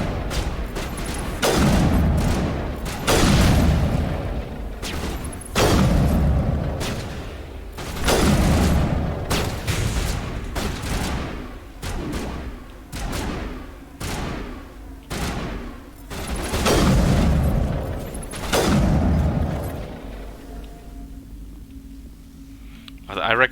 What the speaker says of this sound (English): let's shoot that canister behind him